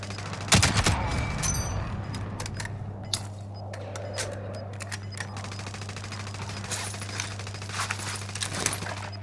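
Rapid bursts of gunfire in the video game Call of Duty: Modern Warfare, sharp cracks clustering near the start and recurring in scattered volleys over a steady low hum, with faint game voices in places.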